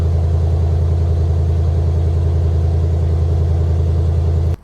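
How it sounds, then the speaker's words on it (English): A Mercedes-AMG GLS 63 V8 exhaust rumbles steadily and loudly at idle with a deep, throbbing low burble, constant throughout before cutting off abruptly. "And here's the exhaust sound."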